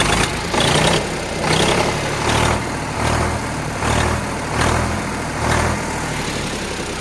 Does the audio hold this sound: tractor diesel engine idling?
yes